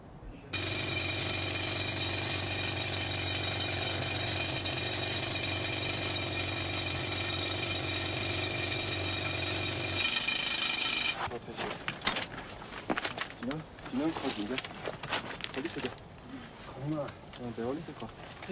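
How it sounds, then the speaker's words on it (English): Drill boring slowly through hard rock at a jade mine grinds out a loud, steady droning roar for about ten seconds, then cuts off, leaving talking voices and scattered clatter. "The drill makes frustratingly slow progress through the hard rock."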